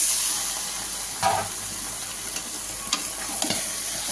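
Chicken with potato, papaya and capsicum stir-frying in a pan, an even hissing sizzle broken by a few spatula scrapes and taps, close up with no voices.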